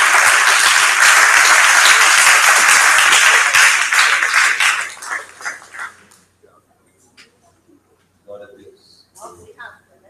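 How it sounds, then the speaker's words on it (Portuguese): A church congregation bursts into loud, sustained applause and cheering that fills the room, then fades out around the middle into scattered claps and quiet voices before a few brief bursts return. "Aplaude o Senhor Jesus"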